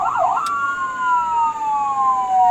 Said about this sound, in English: This is the sound of an ambulance.